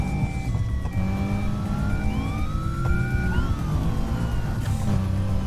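Wailing sirens from two police cars in the video game Need for Speed Heat sweep up and down continuously over a steady engine hum, several overlapping tones, with no talking.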